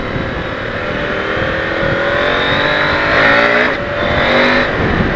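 A KTM 890 Adventure motorcycle fitted with an aftermarket AliExpress exhaust pipe revs loudly and up close, its engine note rising and falling in sustained harmonic sweeps, peaking just past the midpoint before settling back.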